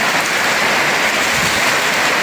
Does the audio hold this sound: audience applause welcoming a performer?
no